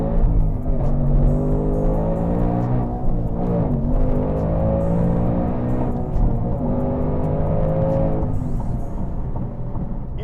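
A 2024 Ford Mustang with a Whipple supercharger accelerating hard: a loud, close engine roar that rises in pitch through the gears, with brief dips at each shift before it climbs again.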